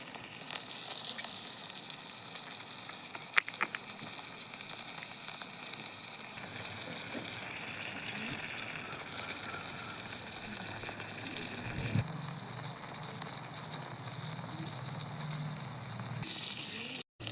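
Tomatoes frying in a pan with ginger and garlic give off a steady, close sizzle that crackles softly and continues evenly throughout.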